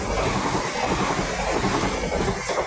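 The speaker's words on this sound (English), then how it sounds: "Here comes a fast train." A fast train roars through a station at close range, a dense rushing rumble of wheels and wind, loud and steady throughout.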